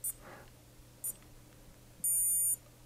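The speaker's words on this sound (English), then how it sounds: "this is a countdown alarm to the stopwatch going" Countdown alarm on a Casio G-Shock G-7700 digital watch: two short, quiet, high beeps about a second apart, then one longer continuous beep lasting around half a second, against a faint background hum.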